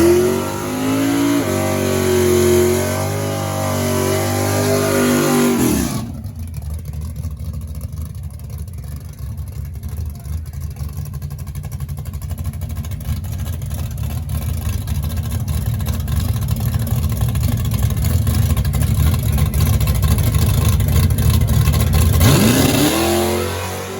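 Hot rod drag race car at the Milan, Michigan drag strip during Hot Rod Drag Week, a loud engine roar that climbs and holds for about fifteen seconds, after a short rise from idle and before a fade.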